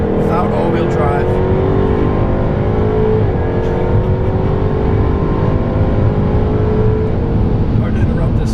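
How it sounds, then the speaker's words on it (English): A 2016 Jaguar F-Type R AWD's V8 roars loudly and continuously at launch, rising pitch as it accelerates hard through the gears, close and dominant throughout. "this car's absolutely magnificent V8 engine"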